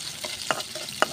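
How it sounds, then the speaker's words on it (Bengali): Gimai greens fry in a pan with a quiet, soft sizzle, broken by two brief stirring scrapes spaced about half a second apart. "ভাজি করবো।"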